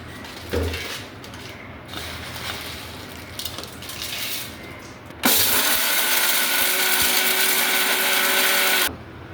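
A mixer grinder coarsely grinds roasted rasam powder spices in a jar, a loud steady whirring burst running for several seconds after quieter kitchen handling noises, then cutting off abruptly.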